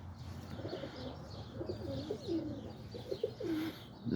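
Pigeons or doves coo outdoors in a steady low, rolling series of calls, moderately close, over a faint ambient background, with a few higher chirps mixed in.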